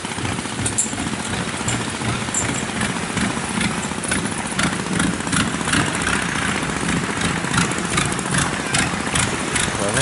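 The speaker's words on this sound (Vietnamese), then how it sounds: "những cái ghe vỏ lãi này nó chạy bằng cái máy xe hơi" A car engine fitted to a long-tail wooden boat roars loudly and steadily throughout, a dense, rattling mechanical drone with no pauses, close by and drowning out everything else.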